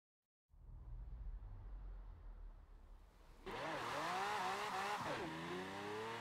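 A Mosler supercar in Forza Horizon 4 idles with a low rumble, then launches into a loud, rising engine roar that climbs through gear changes, with no talk.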